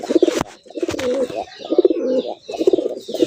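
Pigeons coo in repeated low, throaty phrases right after release, a large red-eyed male calling and a female answering, close and loud with short gaps between calls.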